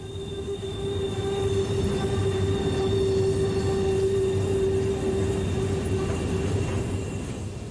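Norfolk Southern freight train of rebuilt hopper cars rolling past, a steady loud rumble of wheels on rail with a sustained high wheel squeal throughout, no voices.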